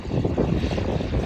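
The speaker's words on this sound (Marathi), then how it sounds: "इकडं आलंय विमान बघा, विमानतळ, विमान" A propeller airplane drones steadily overhead near an airport, with a continuous low, fairly loud engine hum and no talking.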